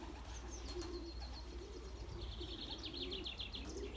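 A flock of Belgian racing pigeons in their loft coo in soft low murmurs, with faint chirps and twittering higher up, all quiet against a steady background hum.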